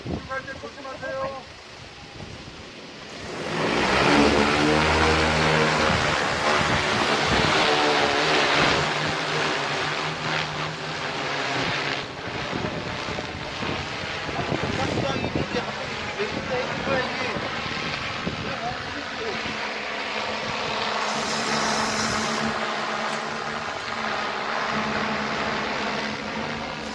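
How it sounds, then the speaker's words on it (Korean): An agricultural drone sprays fertilizer over an apple orchard, its rotors producing a steady, loud whirring drone with wind buffeting that holds for the whole stretch, with people talking faintly underneath. "드론을 활용한 비료 살포 동영상이 되겠습니다"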